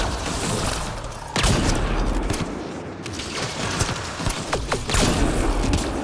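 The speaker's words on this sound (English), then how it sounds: "Assault turret!" An assault turret in the video game Mass Effect Andromeda fires in rapid bursts of gunfire amid booming combat noise and mechanical clatter, dense and continuous throughout.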